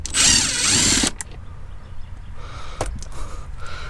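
A power drill whirs loudly for about a second, backing screws out of a 2011-2018 Porsche Cayenne 958 door panel, followed by a few small clicks and handling noises in a quiet garage.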